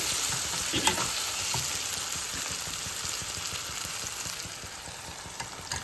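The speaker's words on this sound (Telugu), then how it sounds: "చిక్కుడుగాయలు వేసేస్తున్నానండి" Broad beans sizzle and fry steadily in a pan of egg curry, a dense crackling hiss with occasional stirring scrapes, close and continuous with no talk.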